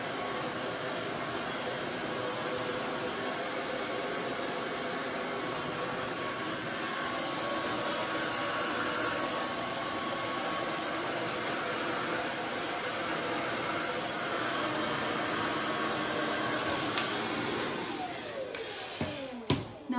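Handheld hair dryer blow drying hair, a steady loud broadband whoosh running continuously for most of the clip before cutting off near the end.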